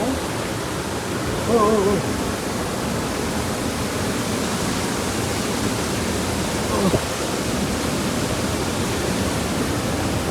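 Water rushing through the sluice gates at Ramappa lake, a loud, steady roar of falling water with a couple of faint voices briefly rising over it.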